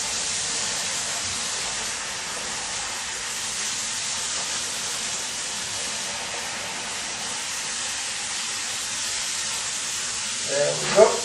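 Hot cooking water poured slowly from a pot into a kitchen sink, giving a steady hissing, rushing stream with rising steam that runs unbroken for several seconds before a couple of brief knocks at the end.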